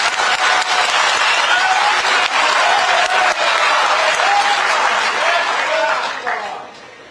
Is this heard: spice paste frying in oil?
no